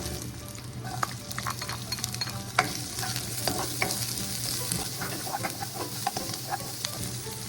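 Garlic and onion fry in a pan for a shawarma rice dish, giving a steady close sizzle with crackling pops and a few scraping stirs of a utensil throughout.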